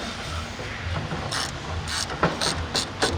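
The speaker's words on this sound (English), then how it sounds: "You need a 3/4 inch socket, a deep socket, and a ratchet." Ratchet with a 3/4 inch deep socket turning a threaded stud on a pad mount transformer, a series of short, fairly close clicking strokes in an irregular rhythm over low background hum.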